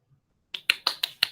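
Five sharp, isolated claps in a quiet meeting room, evenly spaced and close, after a moment of silence, like a lone person or a small handful clapping.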